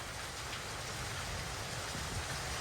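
Steady rain falling continuously, a dense, even hiss of drops with no pauses or voices.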